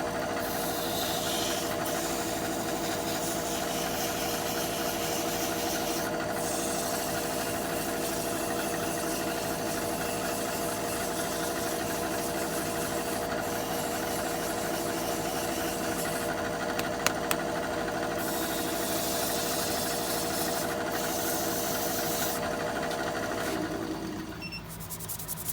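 A wood lathe spins a turning while it is sanded with 240 grit sandpaper, giving a steady, low motor drone with a faint rubbing hiss that winds down at the very end.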